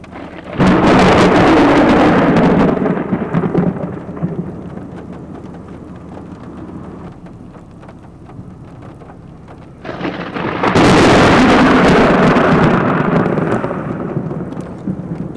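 Close cloud-to-ground lightning strikes unleash two loud, sharp thunder cracks that roll into long rumbles, with steady heavy rain pattering on surfaces throughout and in the quieter gap between.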